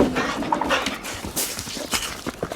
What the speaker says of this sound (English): Dogs are way more excited to see me.